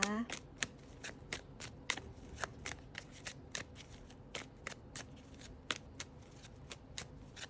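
Tarot cards are shuffled in quick, crisp riffling flicks that repeat in an uneven rhythm across the clip, up close and fairly quiet.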